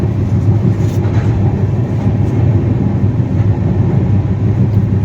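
The Sealdah–Balurghat Express runs steadily past Barrackpore station, with a loud, constant low rumble and rattle of the wheels on the track heard from on board.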